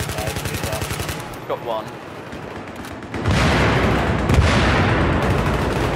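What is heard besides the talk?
gunfire in video game Battlefield 3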